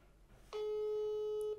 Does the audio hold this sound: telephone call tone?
yes